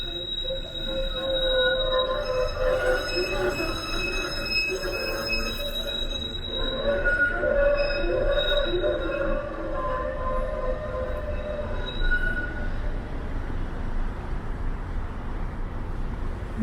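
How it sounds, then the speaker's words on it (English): A Toronto 512 St. Clair streetcar rolls into St. Clair Station at rush hour with sustained, high metallic wheel squeal and tonal screeching over a steady rumbling rail din, loud and close. "And there's the 512 St. Clair streetcar heading into St."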